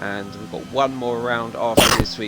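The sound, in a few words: sneeze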